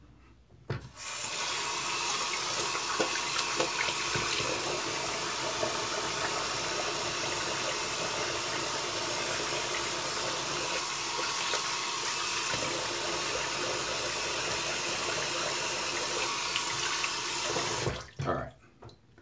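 A tap runs steadily into a sink for rinsing, a constant, even gush of water lasting about seventeen seconds, starting and stopping abruptly and heard close with nothing else over it.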